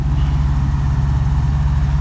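A cold BMW V12 idling roughly, a steady, loud low rumble with a throbbing pulse that continues unbroken and alone, with no talk over it.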